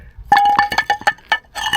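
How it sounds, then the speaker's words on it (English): A fragment of an old glass jar found on a hilltop at an abandoned radar station clinks several times in quick, bright taps, close and fairly loud. "Old glass jar, part of one."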